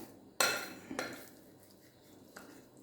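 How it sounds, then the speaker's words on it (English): Lemon pieces for pickle drop into a dish with a sharp clatter, a second softer knock follows, then a faint clink, near and clear against a quiet kitchen. "I'll put some lemon pieces here"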